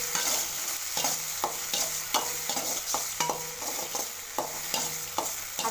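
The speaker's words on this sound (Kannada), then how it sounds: "ಹಾಗಾಗಿ ಸ್ವಲ್ಪ ಬಾಡಿಸ್ತೀನಿ, ಜಾಸ್ತಿ ಏನಿಲ್ಲ" Tomato and Byadagi chilli sauté in a pan, with a soft continuous sizzle broken by repeated sharp scraping stirs of a spatula at a fairly regular pace, close up.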